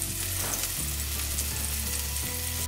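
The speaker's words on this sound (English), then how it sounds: "We're putting the octodogs in the pan so their legs can hold up. Look at them sizzle." Steady crackling sizzle of hot dogs frying in a hot pan, close and continuous, with low kitchen hum underneath.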